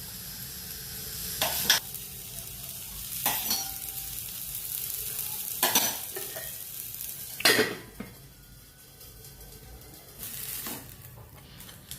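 Uttapam topped with onion, tomato and coriander sizzles steadily in a hot pan, with a few sharp clinks and scrapes of a utensil breaking in at intervals; no one speaks.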